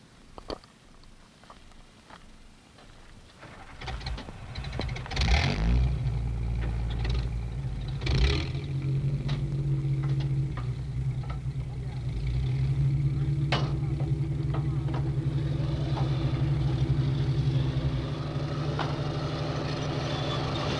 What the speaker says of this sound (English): The other personnel carriers move out with us.